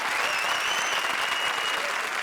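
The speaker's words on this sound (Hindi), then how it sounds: "जोरदार तालियां।" Studio audience on a television comedy show breaks into loud, dense clapping that stays steady and close for a couple of seconds.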